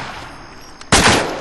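Gunfire in the video game ARMA 2 during a Force Recon mission at Tora Bora: a faint distant pop, then a loud close burst of rapid shots that rings out and slowly tails off.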